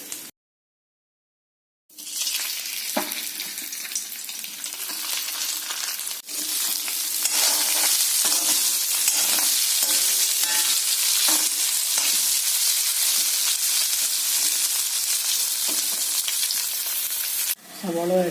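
Cauliflower pieces frying in hot oil for chilli gobi give a loud, steady crackling sizzle. It starts suddenly after a short silence, runs almost unbroken for about fifteen seconds and cuts off near the end.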